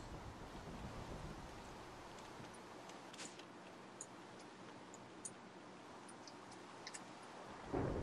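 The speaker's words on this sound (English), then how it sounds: "Not exactly the most joyous thing to do during a thunderstorm." Thunderstorm in the video game Minecraft: a steady wash of rain-like noise with faint ticking and a soft rumble, ending in a brief louder burst, no voices.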